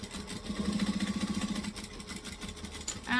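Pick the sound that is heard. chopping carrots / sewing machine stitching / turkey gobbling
sewing machine stitching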